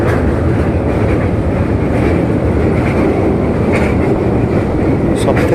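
The Maa Tara Express from Howrah station runs along the rails with a loud, steady roar of wheels and carriage rumble, broadband and unbroken, with faint rhythmic clatter and wind noise throughout.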